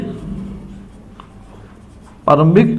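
Steady scratching of writing on a board during an accounting lecture, fairly quiet and continuous for a couple of seconds before a voice cuts in loudly.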